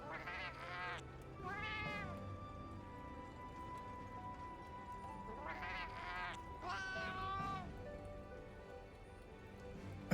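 A cat companion in the video game Monster Hunter Wilds meows several times, with rising and falling cries in two pairs separated by a quieter stretch of game ambience.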